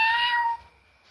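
A young child imitates a cat's meow, one short, clear, high-pitched vocal cry that quickly fades into near silence.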